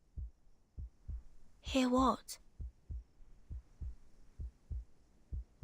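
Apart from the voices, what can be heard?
heartbeat outside the door in video game Reverse: 1999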